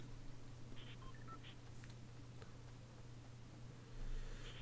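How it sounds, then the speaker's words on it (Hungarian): A phone is handled and muted at close range, a few short keypad beeps and soft ticks over a quiet background hum. "Közben lenémítom a telefonomat"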